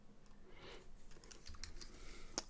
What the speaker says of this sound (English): So typing that straight in